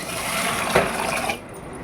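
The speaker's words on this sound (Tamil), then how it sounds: "அதே பாத்திரத்தாலே நம்ம தண்ணியை சேர்த்துக்கலாம்" Water pours with a gurgling splash into a pan for under two seconds, then cuts off abruptly.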